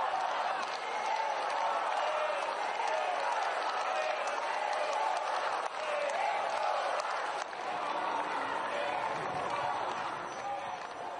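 A large crowd in a town square greeting visiting European officials, a dense continuous roar of voices with scattered cheers and some applause.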